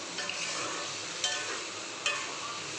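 Peas and paneer sauté in a hot pan with a steady, close sizzle throughout, broken by a few brief clinks of a spoon stirring.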